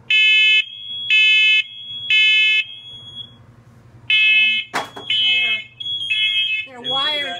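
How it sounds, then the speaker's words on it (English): A shrill smoke alarm under test sounds in three loud pulses, goes quiet while people talk, then sounds in three more pulses with voices in between. "And that was a test of one of the smoke alarms."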